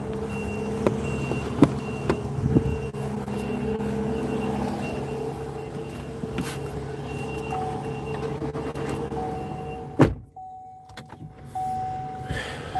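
A truck reversing at a boat haul-out, steady repeating beeps over engine rumble with clanks and thumps, one sharp bang partway, no talk.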